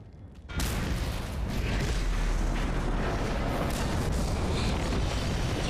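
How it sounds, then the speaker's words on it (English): A huge oil pump explosion in the video game Mad Max erupts abruptly after a quiet lead-in, then rolls on as a loud, sustained roar of blasts and rumbling debris with no talking. "cool guys don't look at explosions"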